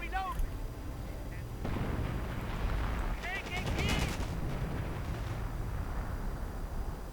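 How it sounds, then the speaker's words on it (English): Artillery barrage booms in a World War II strategy game, deep rumbling explosions and crackling gunfire rolling continuously, with a few sharp whistling shells overhead and someone talking over the din. "I wonder where that artillery went off."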